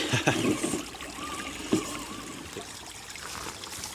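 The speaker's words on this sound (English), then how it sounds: "What a cool little waterfall climb." Water trickles and splashes steadily over a small waterfall as an RC trail truck climbs it, with a couple of sharper splashes early on and a soft continuous burble throughout.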